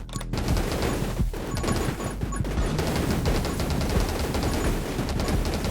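Shotgun fire in 10 Minutes Till Dawn blasts in a continuous, dense barrage of rapid shots, loud and unbroken for nearly six seconds with no voices over it.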